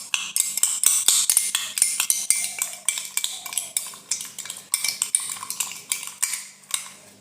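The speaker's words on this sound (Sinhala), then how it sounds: "ඊට පස්සේ තියෙන්නේ මේ විදිහට හොඳට කවලම් කරගන්න." Fruit is stirred with a dash of salt in a bowl, a spoon clinking and scraping against the dish in a brisk, repeated rhythm, close and fairly loud with no talking.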